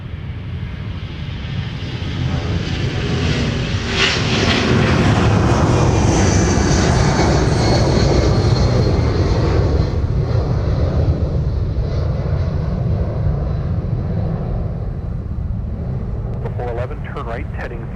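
Airliner on the runway at Minneapolis–Saint Paul airport, a loud sustained engine roar swelling and holding for most of the clip, with radio voices talking over it and a high whine toward the end.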